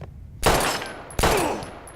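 Two loud gunshots in the video game Life Is Strange, each a sharp blast with a long ringing decay, spaced under a second apart, with a thin high electronic tone hanging between them.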